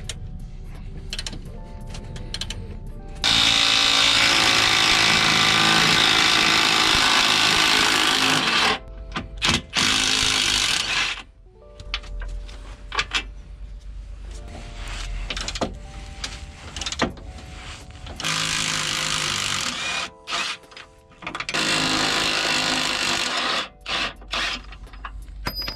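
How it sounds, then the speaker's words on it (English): A ratchet undoing bolts on the subframe of a Ford Mondeo Mk4, loud close bursts of rapid clicking and whirring in several long runs separated by short pauses and small metallic knocks. "So I'm going to hold the top of the spanner and then undo the bottom with the ratchet"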